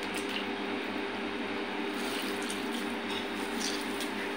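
A piece of bread is soaked in a bowl of water in a home kitchen, giving quiet, steady liquid sloshing and trickling over a low hum, with no talking.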